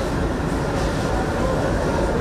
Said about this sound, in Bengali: ঢাকা খুলনা রুটে পরীক্ষামূলক ট্রেন চলাচল শুরু হলো